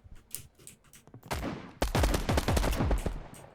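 Gunfire in the battle royale game Mini Royale: a few scattered shots at first, then a loud, close burst of rapid rounds that keeps going to the end.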